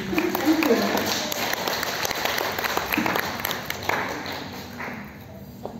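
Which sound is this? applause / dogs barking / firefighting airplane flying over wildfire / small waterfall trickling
applause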